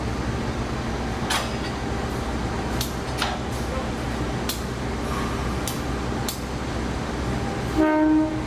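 The Progo train, running at night behind a double locomotive, rumbles steadily with clanks of rail joints and wagons, and a short horn blast sounds near the end.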